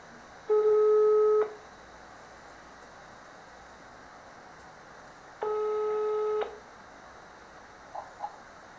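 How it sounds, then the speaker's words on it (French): A telephone call being placed: two long steady tones of about a second each, separated by a few seconds of quiet room hiss, with a couple of faint short blips near the end. "Bon, je vais l'appeler au téléphone, ça sera plus simple."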